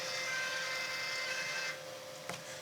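Epson SureColor P9570 large-format printer drawing in roll paper: a steady close mechanical whir with tonal motor hum that drops in level partway through, followed by a single faint click.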